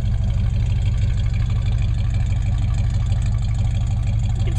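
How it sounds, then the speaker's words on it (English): A 1965 Ford Falcon, an original black-plate California car, idles steadily with a deep, even exhaust rumble heard up close, constant and uninterrupted with no talking. "while we listen to the exhaust here"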